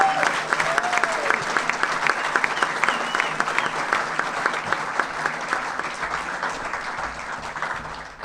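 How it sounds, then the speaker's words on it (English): Audience at an annual awards ceremony at Lajes Field applauds the winners, a dense, loud round of clapping that holds steady for several seconds before tapering at the end. "How about one last round of applause for all our outstanding winners?"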